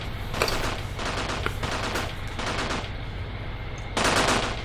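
An armoured personnel carrier's machine gun in Graviteam Tactics fires in several sustained rattling bursts separated by short pauses, loud and close, with a final burst starting near the end.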